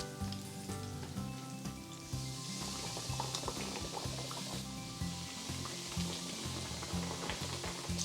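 Steady, dense sizzling and crackling of pork chops frying in hot oil, loud and continuous throughout with bubbling pops and no talk.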